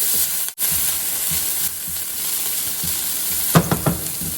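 Onions and peppers sautéing in a pan, a steady close sizzle with a few stirring scrapes near the end, no talking.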